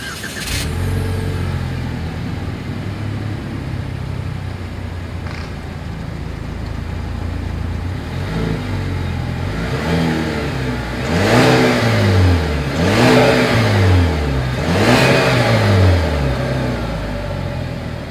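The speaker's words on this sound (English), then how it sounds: "As always, here is that exhaust clip." A 2020 Chevrolet Malibu's exhaust idles steadily, then three sharp revs swell and fall back one after another, loud and close, with no talking.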